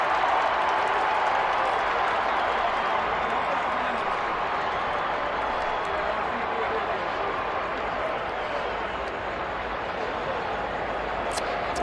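Stadium crowd at an Alabama versus Florida SEC Championship football game keeps up a dense, unbroken roar with scattered clapping, loud and steady throughout.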